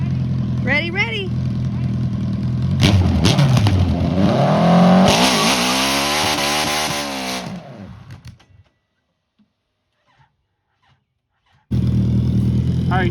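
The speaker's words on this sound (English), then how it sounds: "the reason I stalled it because I was getting in the grass and I didn't push the clutch in time" An MG car engine running and revving as it pulls away on grass, rising in pitch, then stalling abruptly into silence before the engine sound returns; loud and close.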